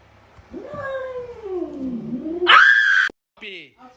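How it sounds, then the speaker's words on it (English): A cat lets out a long, loud yowl that dips and then rises into a sharp, strained cry, ending with a shorter, fainter call. "The time a cat broke into my house and I thought it was a bird."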